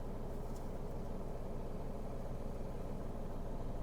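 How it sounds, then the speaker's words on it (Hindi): A manual car's engine running at the clutch biting point, a faint, even low hum that stays steady throughout with no talking over it. "देखो, यहां पे मेरी गाड़ी का साउंड चेंज हुआ।"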